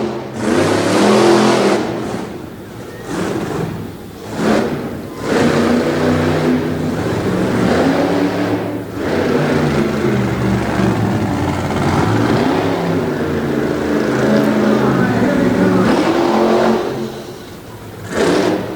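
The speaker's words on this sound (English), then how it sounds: "Richie laying down a nice run in the Higher Education Cool Bus" An off-road race bus with bypass shocks tearing around a dirt course, its engine revving hard and continuously with repeated surges and short drops in power, loud and close, no voices.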